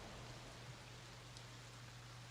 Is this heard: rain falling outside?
yes